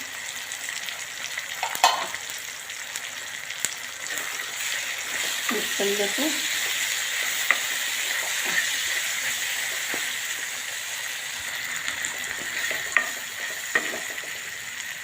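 A curry of raw tomatoes with spices is stirred in a hot pan, a soft, steady sizzle with occasional scraping of the spoon, and a voice briefly speaks over it.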